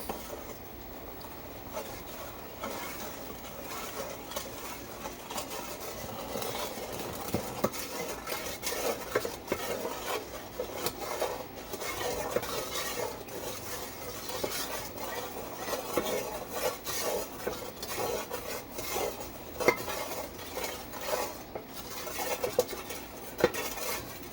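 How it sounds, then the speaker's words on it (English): A spoon stirs yeast until it dissolves for pretzel dough, giving a steady, close run of soft clinks and scrapes that continues throughout at a fairly low level. "And stir that to dissolve."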